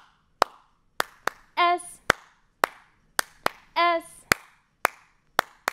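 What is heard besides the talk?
hand claps counted along in a reading rhyme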